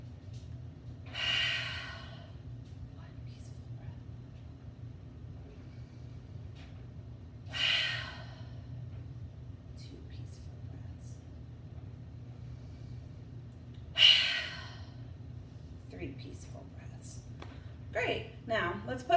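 Three slow, deep breaths taken during a children's yoga breathing exercise, each a soft airy rush spaced several seconds apart over a low steady hum, with no talking.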